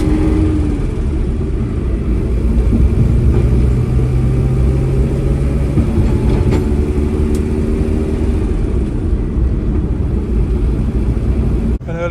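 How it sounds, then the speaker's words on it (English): A 1963 Morris Mini Minor 850 Mark 1 with its small engine running, a steady close low rumble and hum held for about twelve seconds with slight shifts in pitch as it drives. "1963 Morris Mini Minor 850"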